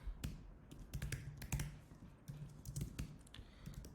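Code being typed on a computer keyboard, quick irregular clusters of close key taps with brief pauses between bursts, fairly quiet and without any voice.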